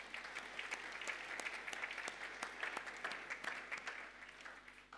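A church congregation applauding, a dense patter of many clapping hands, steady and fairly faint throughout, with no talking over it.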